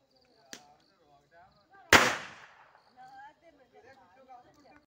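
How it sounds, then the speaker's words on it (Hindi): A cigarette bomb firecracker goes off at home for Diwali with one sharp, loud bang and a quick fading tail, after a small pop, while voices talk nearby. "ये आपको सिगरेट बम छोड़ के दिखाएंगे"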